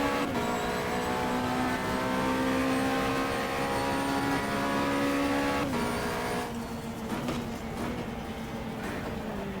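Race car from the GTR2 racing game running laps in the European 360 Rookie Cup, a loud sustained engine whine holding steady pitch, briefly dropping near the middle and easing off toward the end, with no talk over it.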